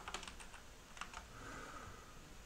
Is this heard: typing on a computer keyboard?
yes